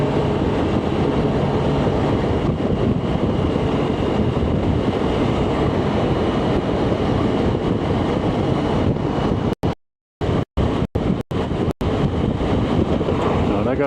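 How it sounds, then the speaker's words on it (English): Heavy wind buffeting a rider on a BMW K1600 GTL motorcycle in New Mexico, a loud continuous roar over engine and road noise, broken near the end by several brief dropouts. "The winds are pretty bad."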